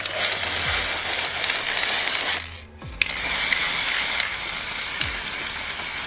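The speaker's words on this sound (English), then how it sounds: "Quickly spray paint the frame." Spray paint hissing steadily onto a skeleton jewellery hanger frame, loud and close, in two long bursts split by a brief pause.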